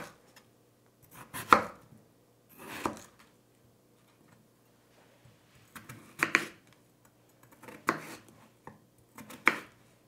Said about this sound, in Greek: Κόβουμε τις πατάτες σε κυβάκια.